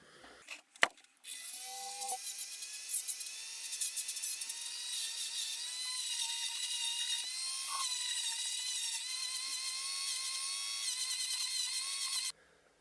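Power sander working a wooden surface with roughly 100 to 120 grit paper, a high, whiny abrasive buzz that starts after a brief clatter, holds steady at close range for about ten seconds, then cuts off abruptly.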